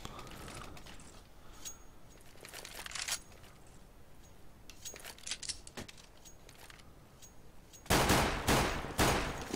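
Rapid bursts of automatic rifle gunfire in Counter-Strike on the dust2 map during a competitive ESEA match, scattered sharp shots through the clip with a louder, denser volley near the end, no talking.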